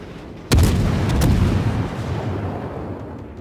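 The cruiser Belfast in a naval video game fires a gun salvo, a sudden loud boom followed by a second quick report and a long, rolling rumble that fades slowly.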